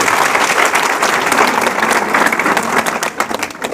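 An audience applauds a topper at a motivational event, dense steady clapping that fills the whole stretch at close, loud level with no pause.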